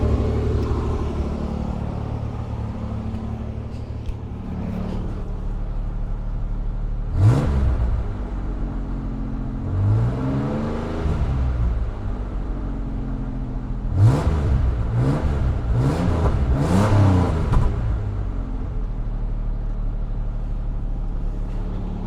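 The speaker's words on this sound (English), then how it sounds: "Let's go ahead and get us some revs" A car engine idles with a deep rumble, then revs sharply several times in quick bursts, loud and close.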